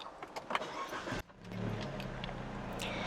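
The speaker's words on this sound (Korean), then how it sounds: "여기 스타트 버튼 이용해서 시동 한번 켜볼게요" A car engine, started with a push button, cranks and fires up after a brief click, then settles into a steady low idle rumble.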